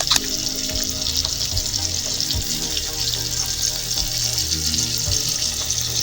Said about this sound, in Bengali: সেই পটলগুলোকে হালকা আঁচে আমরা কিছু সময়ের জন্য ভেজে নেব